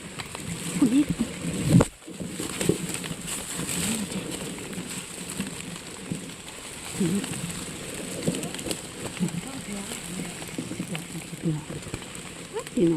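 Rain falls steadily outdoors while mushrooms are gathered, a continuous pattering hiss lasting the whole stretch, with a sharp knock early on and someone talking over it.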